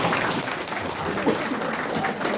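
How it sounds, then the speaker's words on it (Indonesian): Audience applause at a church gathering, a dense, steady wash of many hands clapping for about two seconds at even loudness. "Memang kita beri tepuk tangan dulu sama mereka itu."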